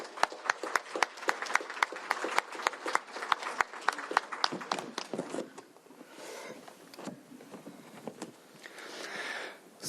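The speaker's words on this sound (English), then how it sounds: "Let's give them a round of applause." An audience at a youth leadership summit claps for about six seconds, sharp individual claps at first, then thins out into faint scattered noise and rustle with no voices.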